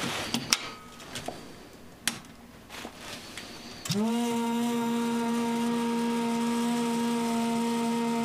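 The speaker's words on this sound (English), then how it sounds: "That sound was the pump." After scattered clicks and handling noises, the coolant pump of a Monport Onyx 55W desktop CO2 laser cutter kicks on with a rising whine and settles into a steady, loud hum that continues to the end.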